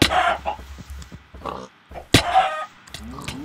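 Chickens clucking and squawking in the Animal Slaughter party video game, with pig-like oinks mixed in; short bursts of loud, close, frantic animal calls alongside game noises.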